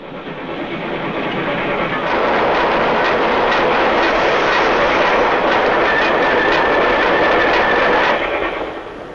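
A Japanese laboratory train of the South Manchuria Railway rolling along rails, a steady loud rumbling clatter that fades in, holds for several seconds with a faint whine, then tapers off near the end.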